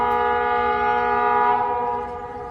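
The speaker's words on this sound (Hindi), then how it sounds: "तभी दोनों ने ट्रेन की आवाज सुनी।" Train sound effect from a horror cartoon: a steady, loud, sustained horn-like tone that holds for the whole stretch and eases slightly toward the end, with no voices.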